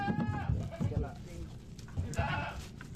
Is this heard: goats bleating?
yes